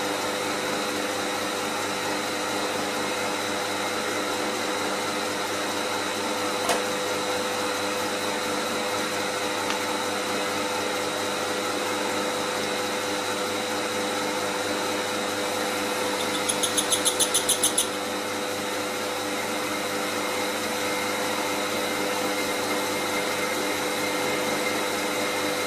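A lathe-mounted milling setup cuts a billet held in a 3-jaw chuck with a worn tungsten carbide tip, giving a steady, continuous whine and hum with a brief rattling chatter near the end.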